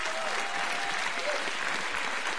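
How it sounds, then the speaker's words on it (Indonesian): An audience claps in warm, sustained applause for a tailor at an event in Indonesia. The dense, steady clapping fills the whole stretch without letting up. "Tepuk tangan dong buat Pak Parto."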